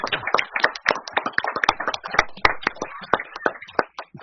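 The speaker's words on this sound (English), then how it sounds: "Okay, can we have another round of applause?" A small group at a school board meeting claps for a student, with scattered, uneven hand claps close by and irregular in rhythm, with no steady roar of a big crowd.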